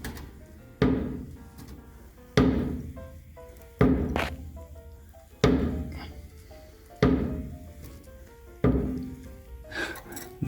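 Repeated dull thunks from an Austin Healey clutch pedal being pressed and released by hand, six evenly spaced mechanical knocks each with a short ringing decay, close and fairly loud with no talking.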